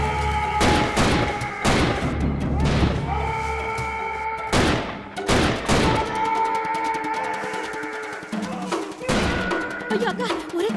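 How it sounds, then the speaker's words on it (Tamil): Several loud, sharp gunshots ring out at irregular intervals in a forest scene of the Tamil film Naalu Policeum Nalla Irundha Oorum, amid tonal music and a booming background, close and forceful. "ஐயோ அக்கா, ஒரே துப்பாக்கி சத்தமா கேக்குதே."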